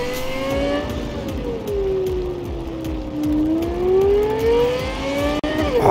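A car engine in the video game Cyberpunk 2077, with the motor mounted at the rear, holds a steady droning whine that dips and rises in pitch with speed, loud and alone.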